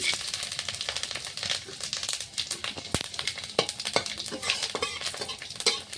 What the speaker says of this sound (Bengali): কড়াইতে ফোড়ন দেওয়ার জন্য সরষের তেল দিয়ে দিয়েছি। দিয়ে দিব শুকনো লঙ্কা, জিরে, পাঁচফোড়ন মিশিয়ে দিয়েছি।